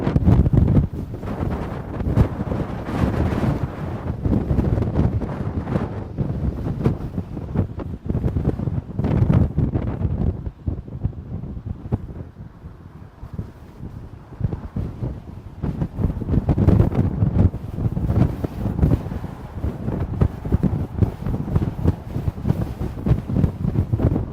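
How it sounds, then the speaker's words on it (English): Strong gusting wind buffets the microphone at a wildfire on Christie Mountain, a loud continuous roar that surges and eases in waves throughout, with no voices. "the winds have certainly shown up in force today, starting this morning, but really taking off this afternoon"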